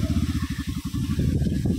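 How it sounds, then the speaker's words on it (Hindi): Close chugging thump of a motorcycle engine with an even pulse, rising slightly as the bike pulls away and is ridden. "दिखाते हैं ये किस तरह बाइक चलाते हैं"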